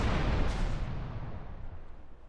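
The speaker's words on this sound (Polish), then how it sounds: "Sprawdzimy sobie w takim razie, czy motocykl po prostu od razu wybuchnie, czy też zapali się jak samochód i dopiero potem nastąpi eksplozja" A motorcycle blows up in GTA Vice City, a loud, dense burst of explosion that rolls on as a rumbling roar and fades slowly over about two seconds, with no voices.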